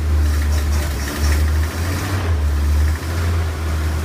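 A 1932 Oldsmobile engine idles just after a cold start, its low steady rumble close and loud, with a few brief dips and swells as the throttle is feathered to keep it running.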